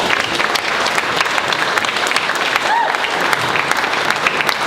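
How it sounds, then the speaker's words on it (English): Loud, dense crowd applause at a boxing press conference welcoming a French national champion fighter, sustained clapping with a faint background voice mixed in. "Please give a round of applause to Taousi El Hadji."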